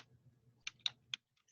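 A computer keyboard gives a few quiet, separate keystroke clicks, three or four taps in quick succession over a soft background hum, with no talk.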